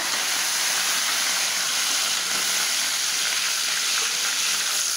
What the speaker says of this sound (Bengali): পেঁয়াজ রসুন এটা লাল করে নিচ্ছি। আর এখন আমি এটা তেলে ভেজে নিব শুটকিগুলা পেঁয়াজ রসুন দিয়া।